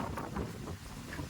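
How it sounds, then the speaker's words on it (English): Wind gusts across an open outdoor property that is being cleared for an off-grid build in the Philippines. Short and moderately loud, it sounds as a rough, buffeting rush against the microphone with uneven pulses of noise. "So back here this morning, it's quite windy."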